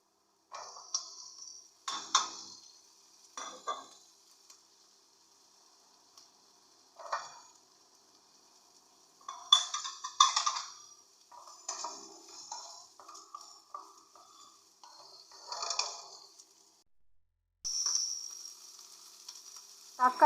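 Onion and capsicum frying in hot oil in a pan, a steady close sizzle with intermittent scraping and clinks of a spoon stirring through the pieces.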